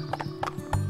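Hooves clip-clop in a quick, close rhythm in the Barbie Horse Adventures video game, and a short whinny from the horse overlaps them near the end, all within under a second.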